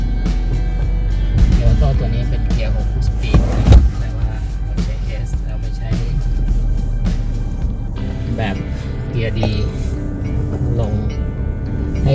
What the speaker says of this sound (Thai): เครื่องช่วยเบรกด้วยนะครับชะลอ